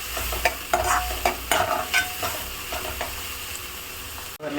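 Garden tomatoes sauté with goat meat in a pan, a continuous close sizzle broken by repeated scraping and clacking stirs of a spatula, with no talking.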